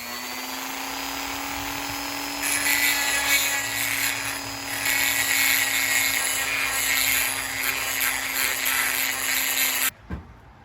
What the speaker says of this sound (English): I'm just going to take a little bit here off with this Dremel cutting tool